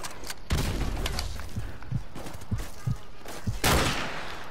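Gunfire in the video game Call of Duty Modern Warfare Remastered: loud, close shots with sharp bangs and several separate cracks in an uneven rhythm over a noisy battle background.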